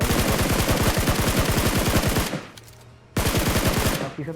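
Rapid automatic gunfire from the battle royale game PUBG rattles in two loud bursts, a long spray of evenly spaced shots, a brief pause, then a second shorter burst.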